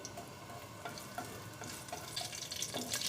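Crushed cardamom pods sizzle faintly in about half a cup of hot ghee in a pot, a soft steady crackle with light stirring clicks and no voices.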